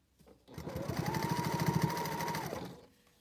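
A sewing machine set to a 3 stitch length runs steadily for about two seconds, its rapid mechanical stitching rhythm starting and stopping cleanly, close up.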